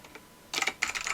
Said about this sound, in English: Type your message out,